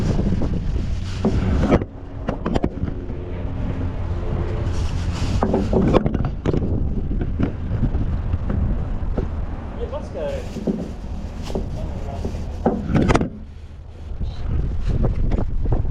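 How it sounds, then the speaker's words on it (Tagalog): Strong, cold wind buffets the microphone in a continuous roar in a park in New Zealand, with gusts rising and falling while a person speaks now and then underneath. "Lakas ang hangin."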